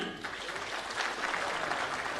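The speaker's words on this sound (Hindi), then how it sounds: "तालियां हर बार हो" Sustained, dense applause from a large crowd at a Jharkhand award ceremony honouring class 10 and 12 toppers, a steady even roar of clapping throughout with no speech over it.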